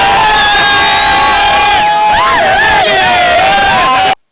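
A jubilant crowd at a jackpot winner's celebration in Tezo, Kilifi County, Kenya, cheers and shouts loudly, with whoops and rising and falling yells all blending into one continuous roar that ends abruptly.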